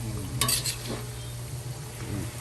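Bean sprouts being stirred in a hot pan, with gentle scraping and clinking from a utensil over a steady sizzle and a low hum.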